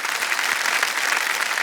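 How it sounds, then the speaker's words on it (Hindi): A studio audience on the KBC quiz show gives a burst of enthusiastic applause, a dense, steady clatter of many clapping hands that stays loud for the whole short moment. "जोरदार तालियां एक बार फिर बनिए उनके लिए।"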